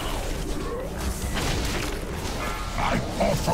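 Explosions go off during a raid in a video game, heavy booming bursts and rumbling impacts layered over a dense mix of game noise, with voices chattering underneath.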